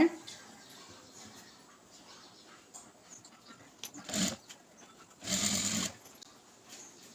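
A sewing machine runs an edge stitch along a blouse in two short bursts, the second longer, each a fast whirring rattle close by, separated by quiet handling noises.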